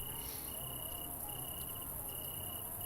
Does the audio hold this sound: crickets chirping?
yes